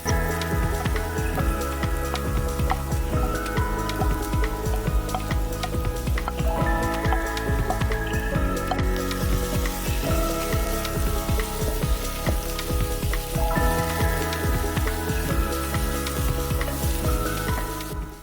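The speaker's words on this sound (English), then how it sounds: "I'm just going to toss in my onions and my ginger and garlic in there and let that cook for a minute or 2" Onions, ginger and garlic sizzle steadily in a hot pan as the base for a fish stew, a dense, continuous crackling hiss with scattered pops and occasional stirring clatter, close and even throughout with no talk.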